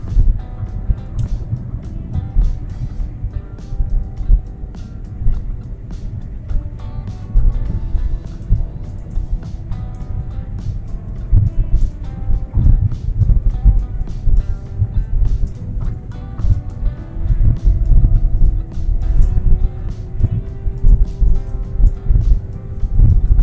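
A Wuling Cortez 1.8 is driven flat out on a straight road at around 120 km/h, with steady engine drone, road rumble and wind noise filling the cabin continuously.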